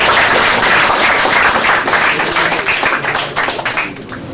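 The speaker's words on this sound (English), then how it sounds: "Can you please give another round of applause for Attorney Pandal?" An audience at a poetry reading breaks into loud, dense applause that holds steady, then thins and fades toward the end.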